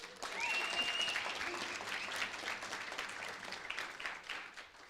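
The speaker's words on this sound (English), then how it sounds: "Yes, you may clap." Applause from a graduation audience, dense clapping that stays fairly even for several seconds and tapers slightly at the end, with faint voices underneath.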